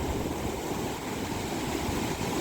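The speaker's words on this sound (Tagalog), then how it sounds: "Lakas ng alon mga guys, oh." Strong sea waves roll onto a beach at Mauban, Quezon, a continuous loud roaring wash of surf mixed with wind buffeting, with no talking.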